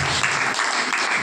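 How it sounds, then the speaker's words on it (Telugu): A church congregation at Sunday worship claps hands together in a dense, steady burst of applause, loud and close throughout. "చప్పట్లు కొట్టి."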